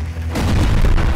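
A short, heavy boom of a game explosion in Worms 2 Armageddon, with a deep low rumble that swells and sustains for about a second.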